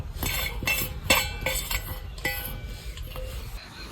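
Chopped fenugreek leaves are tipped into a bowl with utensils, giving a run of sharp metallic clinks and taps of spoon on bowl, close and fairly quiet, with no talk.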